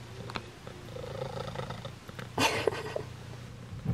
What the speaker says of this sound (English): she has one of the loudest purrs